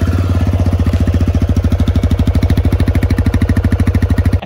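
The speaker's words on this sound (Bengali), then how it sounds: "এক্সজস্টের সাউন্ডটা খুব দুর্দান্ত।" A 2023 TVS Raider 125 E20 BS7 motorcycle idles close up, its exhaust giving a loud, steady, rapid thumping pulse that holds an even rhythm before cutting off at the end.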